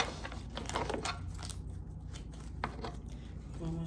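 Tarot cards shuffled by hand, soft riffling and sliding card noise repeating in short bursts, close and quiet with no talk.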